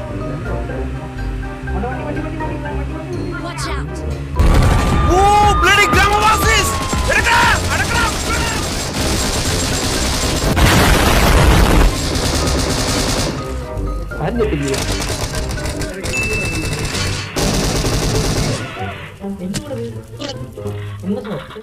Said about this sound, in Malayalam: എന്തിനാ ആളുകള് പടക്കം പൊട്ടിച്ചേ?